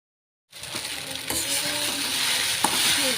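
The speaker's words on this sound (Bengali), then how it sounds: "আমি ডিম দিয়ে ভেজে ম্যাগি করছি" Maggi noodles and egg fry in a pan with a continuous, fairly loud sizzle starting abruptly after a short silence, broken by a few small metallic clinks and scrapes.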